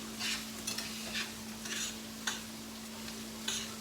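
Food sautéing in a pan for Creole chicken and rice: a steady sizzle with repeated scraping stirs and a couple of sharper utensil clicks, close and clear with no talking.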